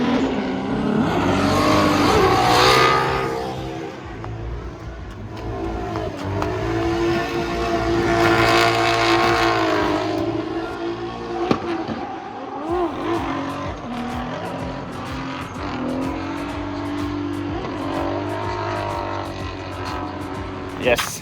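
A race car at a race in China roars through gear changes with rising and falling engine pitch, interspersed with tire noise, while commentators talk over it throughout.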